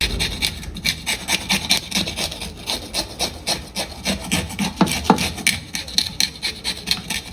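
A knife scrapes scales off a rock fish in quick, regular rasping strokes, loud and close, with no talking.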